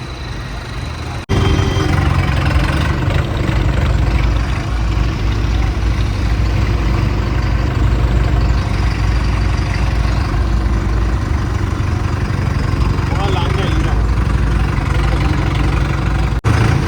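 Loud, close tractor engines run continuously with a steady low rumble and chugging throb as a line of tractors passes, starting abruptly after a brief quiet moment.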